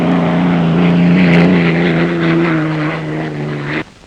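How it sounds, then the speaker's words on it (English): Unlimited hydroplane racing boat engine at the 1963 Gold Cup in Detroit, a loud, steady droning roar that holds for about four seconds before cutting off abruptly at the end. "The motor's roaring."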